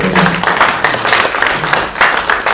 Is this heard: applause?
yes